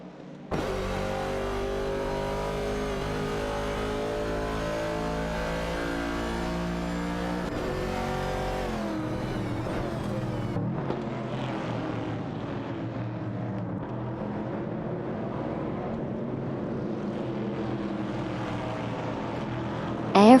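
Racing-game engines roar from AI-driven cars, among them a Mercury Cougar and a Ford Falcon, in one continuous layered drone of overlapping revs for the whole stretch, with no talking.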